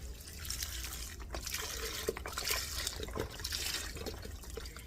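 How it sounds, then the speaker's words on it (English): A whole box of chicken broth pours into a soup pot, giving a steady close liquid splash and trickle that runs through the clip with small drips and glugs, no talking. "Now we're going to put in all of our liquids. I'm going to use an entire box of broth."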